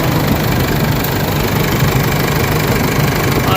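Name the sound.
Isuzu MU-X engine running with the engine bay open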